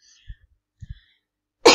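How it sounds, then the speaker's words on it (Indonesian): A few short, muffled coughs from one person, spaced apart, followed by a sudden louder burst at the end. "Sorry, lagi batuk."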